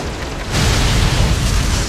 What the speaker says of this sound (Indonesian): Ledakan besar terjadi dari bawah tanah